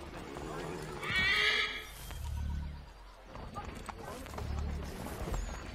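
Horses in Assassin's Creed III whinny loudly once, then clip-clop at a steady walk along a Boston street, with faint background chatter throughout.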